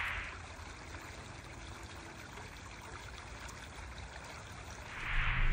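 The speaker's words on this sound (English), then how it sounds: "What a pretty natural little creek, though." Gentle, steady trickle of a small natural woodland creek running continuously, fairly faint, with a brief swell of splashing water near the end.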